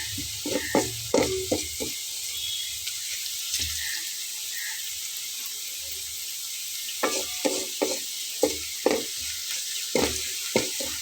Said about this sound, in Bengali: জিরাটা দিয়ে একটু ঘন ঘন নেড়ে নিচ্ছি, যাতে করে পুড়ে না যায়।